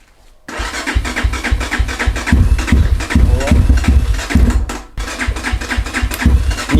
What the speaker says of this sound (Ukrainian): Завели моцик.